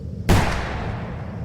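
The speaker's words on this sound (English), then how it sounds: "A gunshot rang out in the distance" A single gunshot cracks in the woods, sharp and loud at onset, then rolls into a long, distant-sounding reverberant tail that slowly fades.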